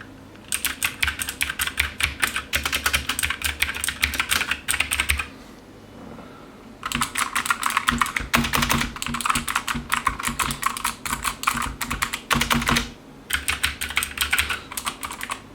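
Rapid clacky typing on a SteelSeries mechanical keyboard with clicky blue switches, close and continuous, in three long bursts separated by short pauses.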